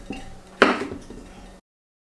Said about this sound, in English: washing dishes for me. Making a whole lot of noise